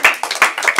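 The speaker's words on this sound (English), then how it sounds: "when we all clap like that" A church congregation claps hands together in praise, several sharp, loud, rhythmic claps in quick succession, close and without talk.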